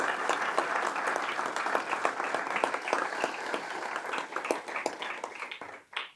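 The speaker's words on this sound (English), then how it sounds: "And if you'd give him a big round of applause, Paul Volverding." An audience at a press conference at UCSF Benioff Children's Hospital applauds, steady dense clapping from many hands that holds for several seconds and then tapers off.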